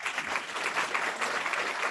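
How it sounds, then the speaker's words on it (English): A board meeting audience gives a steady round of applause, dense clapping from many hands that holds evenly throughout. "let's give her a hand clap"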